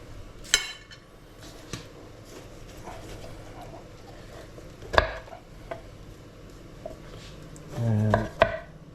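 A knife chops roasted vegetables on a cutting board for a lentil soup, a few sharp, widely spaced thuds and knocks against a quiet kitchen background, with a short rustling clatter near the end.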